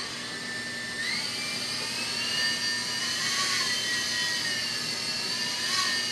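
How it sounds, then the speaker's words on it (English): A small E-flite Blade mSR RC helicopter hovers and flies nearby, its rotor giving a steady high-pitched whine that rises and falls slightly in pitch. "this is going to be a flight video for the Blade mSR"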